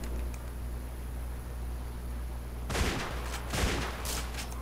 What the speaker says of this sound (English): I'll just shoot the zombies over here.